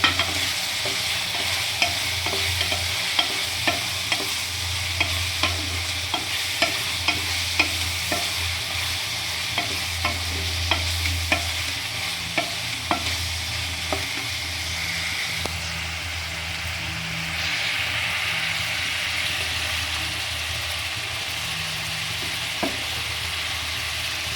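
Mutton curry with cucumber, made Telangana style, fries with turmeric in a pan. A continuous loud sizzle runs throughout, with regular stirring scrapes and taps at a steady rhythm and no voices.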